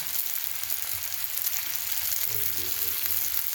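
Chicken for crispy BBQ fried chicken sizzles steadily in a pan as soy sauce is added and spread around, a continuous close frying hiss with faint stirring underneath.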